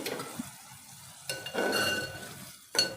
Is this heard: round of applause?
no